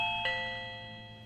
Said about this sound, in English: Press the doorbell button.